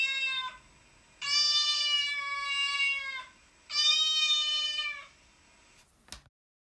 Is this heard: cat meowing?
yes